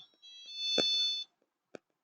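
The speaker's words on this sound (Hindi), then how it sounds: "ये मेरा फोन बजा" A mobile phone rings during a Class 10 science lesson, giving a steady electronic ringtone that lasts about a second before stopping abruptly. A short tap follows, and the room is otherwise quiet.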